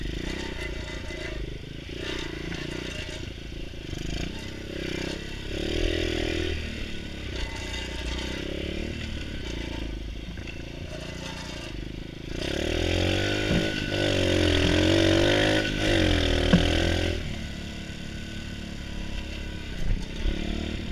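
Small pit bike engine running while being ridden, a buzzing, revving drone that swells louder in the second half with rising and falling pitch, over clatter and scraping.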